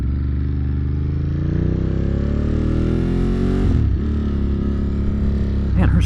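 A Ducati motorcycle's exhaust rumbles continuously while riding, the engine note rising steadily under acceleration, then dipping briefly before climbing again, loud and close with wind noise.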